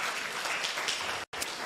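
An audience applauds steadily at a Capuchin sisters' business project event in Kenya, a dense, continuous clapping that breaks off briefly near the end before resuming.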